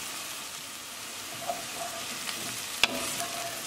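Jalapeno green chilies sizzle in a hot oil tadka for garbanzo and black bean curry, a steady soft frying hiss broken by a few light stirring clicks and one sharp utensil tap near the end.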